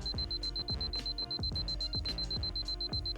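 A steady high electronic alarm tone rings continuously over a fast repeating thumping beat, loud and close, like an alarm clock going off.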